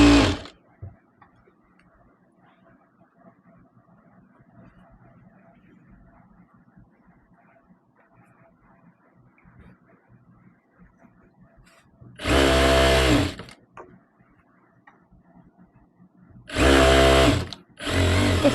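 A sewing machine stitches a seam into saree fabric in two short, loud bursts, each about a second long, separated by a quiet stretch.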